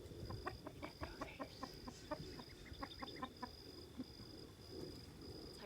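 Homestead chickens cluck in quick repeated bursts close by, a busy rhythmic chatter of hens with a faint steady hum in the background.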